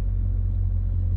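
A parked car's engine idles with a steady low rumble, close and constant, with no other sounds over it.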